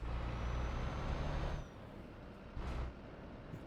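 Simulated truck engine drone from Euro Truck Simulator 2 with the Promods map, rolling slowly toward a Channel tunnel entrance, steady and fairly loud, with a brief air-brake hiss and a change in engine note.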